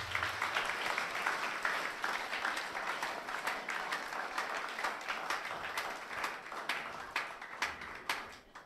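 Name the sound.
congregation applauding in church service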